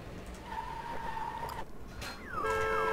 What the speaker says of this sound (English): And his siren's going off, which is annoying.